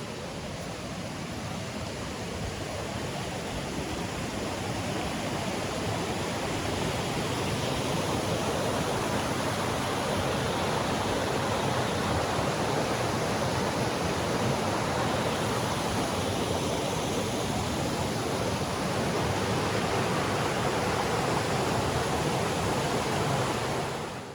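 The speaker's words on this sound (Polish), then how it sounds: "I ten szum wody, bardzo fajna sprawa." Steady, loud rushing of a mountain stream flowing over rocks in the Roztoka Valley, a continuous broadband roar with no voices, close by and unchanging throughout.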